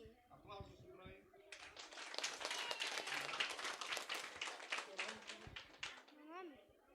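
An audience of schoolchildren bursts into dense, sustained clapping for a student, several seconds of close applause with voices talking just before and after.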